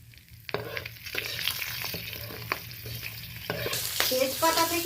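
Bay leaves and halved green chillies hit hot oil and fry with crackling sizzles and spitting pops, growing busier and louder toward the end, with no talk.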